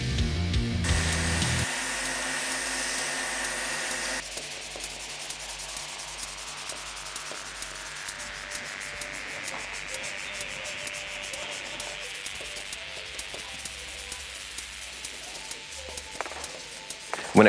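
A wooden pen blank is hand-sanded with fine-grit sandpaper, progressing from 240 grit up through finer pads. It gives close, steady rhythmic rubbing strokes, with a brief louder motor whir at the start.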